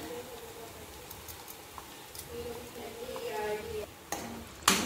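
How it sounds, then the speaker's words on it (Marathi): Tomato puree goes into a pan of roasted onions and starts frying, with a soft sizzle under light stirring and a few clinks of a utensil against the pan. A sharp scrape comes near the end. "कांदा आपला छान भाजला आहे, त्याच्यावर टॅमॅटोची प्युरी टाकते मी."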